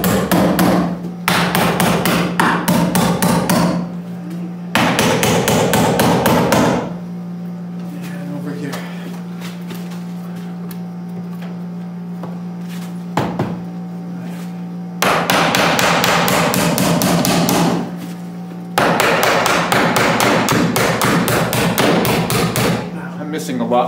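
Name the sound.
hammering to temporarily hold a window in place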